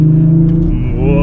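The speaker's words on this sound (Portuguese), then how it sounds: "Olha o ronco desse carro, tio. Olha o jeito que tá roncando" A car engine idles with a deep, throaty rumble, close and loud, holding a steady low growl throughout the short moment.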